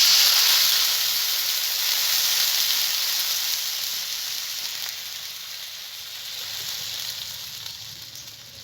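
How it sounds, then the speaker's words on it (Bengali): Water poured onto spices fried for a village green mango curry, giving a loud hissing sizzle that slowly fades and steadies as it settles, with no voices. "মশলা কষানো হয়ে গেছে, আমি জল দিয়ে দিচ্ছি।"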